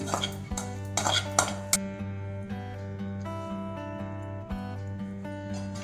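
Metal utensils scrape and clink against a pan and dish as fried okra is moved into a serving dish, a cluster of sharp clatters early on followed by softer scraping and a steady background hum.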